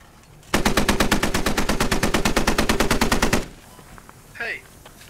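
Gunfire in the military shooter game Squad: one loud, sustained automatic burst of rapid, evenly spaced shots lasting about three seconds, followed by quiet and a brief faint sound.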